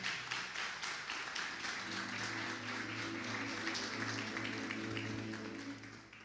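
Congregation applauding in a church, a steady, dense wash of clapping sustained throughout with sustained tones of music or organ underneath.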